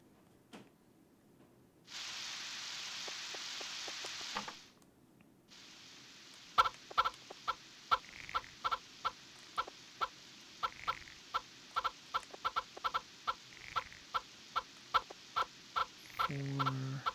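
Chickens in Harvest Moon 64 cluck in short, evenly spaced bursts that repeat steadily for about ten seconds, following a brief stretch of hissing noise.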